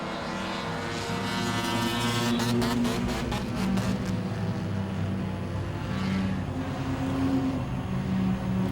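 Stock cars race at Langley Speedway in an enduro event, with a steady, loud roar of several engines passing close by and continuing throughout, rising and falling slightly as the pack circulates.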